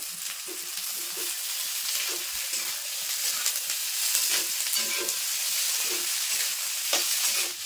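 Onion, capsicum and peas stir-fried in a pan for Bengali-style egg chowmein, a steady close sizzle broken by scraping stirs of a spatula, with no voices.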